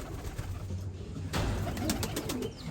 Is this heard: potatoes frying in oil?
no